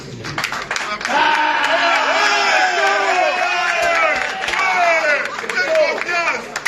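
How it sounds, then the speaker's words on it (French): Press-conference crowd for an upcoming Francis Ngannou bout cheers and applauds the fighters, a dense steady wash of clapping and voices mixed with shouting throughout. "On applaudit les combattants"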